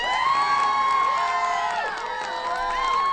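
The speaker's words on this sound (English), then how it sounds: "Suddenly the entire crowd erupts in cheers and clapping." A large festival crowd at a tennis match erupting in cheers, a loud sustained roar of shouting and whooping voices that swells and holds, with scattered clapping mixed in.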